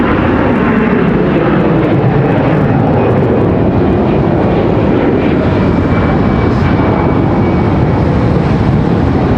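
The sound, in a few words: Airbus A320 jet aircraft departing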